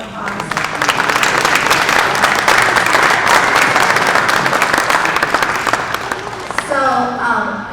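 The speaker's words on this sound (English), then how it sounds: "Please give Jeff a round of applause." Sustained audience applause for a speaker at a science talk, dense clapping from a crowd that holds steady for several seconds before fading as a voice begins at the end.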